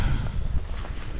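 Strong headwind roars and buffets the microphone of a cyclist riding uphill in Iceland, a loud low rumble that never lets up, without any voices.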